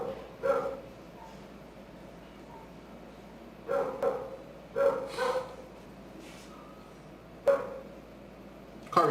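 A dog barks in short bursts at a moderate distance, a few separate yaps spaced several seconds apart over steady low background noise.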